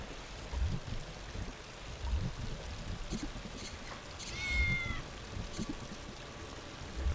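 A cat meows a few times in the video game Tales of the Neon Sea, short faint calls over a soft flowing-water ambience with light tapping, no speech.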